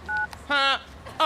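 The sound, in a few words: telephone being dialed to call a taxi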